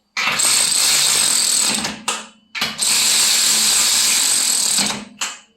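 A Milwaukee or DeWalt 12V cordless 3/8-inch ratchet runs down bolts in two long, loud, close bursts of whirring, clicking mechanism, each stopping abruptly, with a brief short burst after each.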